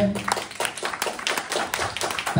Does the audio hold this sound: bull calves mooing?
no